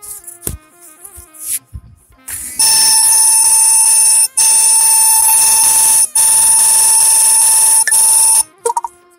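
A mobile phone's pocket sense alarm rings loudly with a steady, shrill tonal beeping in long sustained bursts broken by a few brief gaps, preceded by softer phone tones and tapping.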